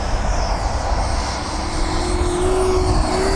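E-flite F-4 Phantom II 80mm electric ducted-fan RC jet making a slow pass, a steady whooshing fan roar with a rising whine near the end, loud and continuous with no voices.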